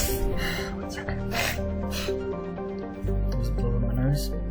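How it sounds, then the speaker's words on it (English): A person blows their nose in a few short breathy bursts, close by, over steady video game music from Mass Effect 2. "Just blow my nose."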